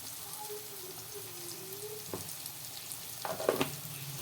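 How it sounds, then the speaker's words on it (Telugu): Cumin and coriander powder fry in oil in a pan for a spinach and egg curry, giving a soft, steady sizzle, faint and close, broken by a few spoon-against-pan clinks near the end. "ఈ మసాలాలన్నీ వేగిపోయినాయి కదండి"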